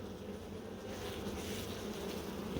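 Honey bees drone in a dense, continuous buzz at an opened hive during a honey harvest. The sound is steady and enveloping, with no pauses or voices.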